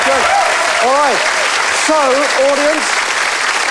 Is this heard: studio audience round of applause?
yes